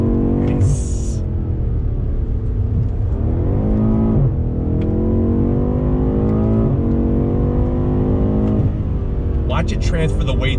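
A 2020 BMW M8 Gran Coupe engine revs hard on a track and climbs through gears, loud and close, with rising pitch sweeps between shifts while someone talks over it.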